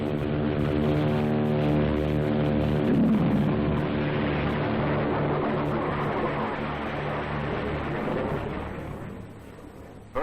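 A loud, sustained roar of aircraft engines and JATO rocket boosters during takeoff in Antarctica fills the whole stretch, a dense rumbling blast that eases slightly near the end.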